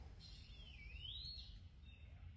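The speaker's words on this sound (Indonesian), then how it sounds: "ada suara burung hantu" A single whistled bird call, rising then falling, rings out faint and distant in a mossy mountain forest on Gunung Buthak, above a low, steady background rumble.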